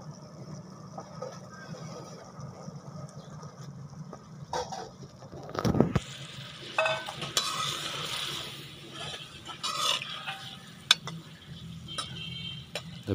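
Boiled macaroni being stirred with spices in a pan, a spoon scraping and tapping in irregular bursts at close range over a low background hum, with a few louder clatters midway.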